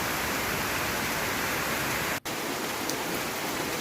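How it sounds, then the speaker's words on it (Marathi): Heavy rain pours in a dense, steady hiss with one brief dropout in the middle. "पाऊस एकदमच चालू झाला मोठ्यानं"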